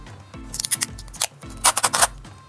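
Wide clear adhesive tape being pulled off the roll and pressed down over a paper picture for a homemade sound toy, giving close, crackly ripping and rubbing bursts in two main spells.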